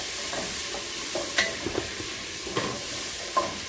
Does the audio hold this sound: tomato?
yes